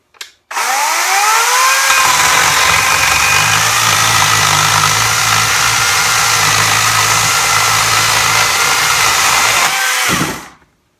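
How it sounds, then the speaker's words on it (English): A 40V cordless electric chainsaw whines up to speed and runs loud and steady while cutting lumber, then winds down and stops. "That's really not too bad for a chainsaw."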